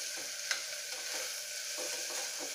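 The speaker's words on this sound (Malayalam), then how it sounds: "നമുക്കൊന്ന് ഇളക്കി കൊടുക്കാം" Onions, ginger and garlic frying in oil for beef biryani, a constant hiss of sizzling with soft intermittent stirring scrapes and one sharp clink, heard up close without speech.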